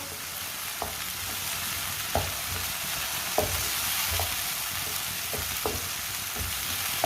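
A spoon stirring radish with chopped garlic and green onion as they fry in a pan: a constant loud sizzle broken by regular knocks and scrapes of the spoon every second or so, close up, with no one speaking.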